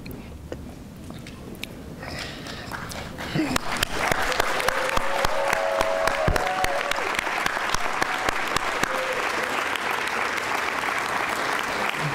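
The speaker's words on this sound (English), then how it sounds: "this is everyone applauding you for your efforts." A large crowd at a student science fair awards ceremony claps steadily and loudly, the applause swelling after a few seconds and holding, with faint voices mixed in.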